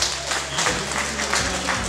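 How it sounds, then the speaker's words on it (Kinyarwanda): Wedding guests applaud together in a steady, dense wash of clapping that fills the whole moment at moderate volume, with no voices standing out. "nagira ngo mwongere mubampera amashyi menshi"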